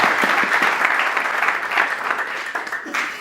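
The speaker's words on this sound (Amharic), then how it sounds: "አጨብጭቡ ለጌታ።" Worshippers in a church applauding, many hands clapping at once in a thick, sustained roar that stays close and even for the whole clip, with slight swells toward the end.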